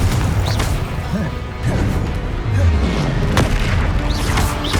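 Spells cast in Hogwarts Legacy, with Confringo blasting spells exploding in repeated heavy crashes and booms spaced a second or so apart, loud and close over continuous game noise.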